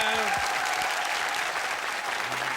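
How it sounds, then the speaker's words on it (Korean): A studio audience on a Korean army-themed TV variety show gives a warm round of applause for reserve soldiers of a vanguard company, broad continuous clapping with a brief voice at the start. "여러분 큰 박수 보내주십시오."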